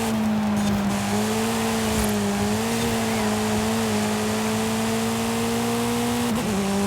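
An MG and a Hyundai Elantra race in Forza Horizon 5, one car's engine holding a loud, steady, droning tone throughout, with a slight dip and recovery near the end as it brakes into corners.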